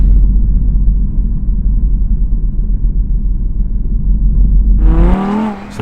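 An Audi R8 V10 accelerates hard in stock form with Sport mode, a loud, steady engine roar and rumble building for about five seconds, then a rising high whine as revs climb before it cuts off abruptly.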